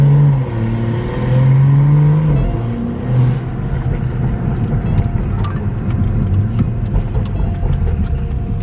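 A tuned BMW M235i's engine revs up and drones under load, with faint crackling exhaust pops scattered through the later part.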